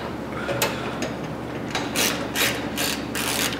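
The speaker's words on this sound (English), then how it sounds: "on the right side of your hood latch, you're gonna remove this bolt and we're gonna replace it with a longer one" A ratchet wrench backs out a bolt beside the hood latch of a Nissan S13, a fast clicking pawl in quick repeated strokes, close up and loud, with no talking.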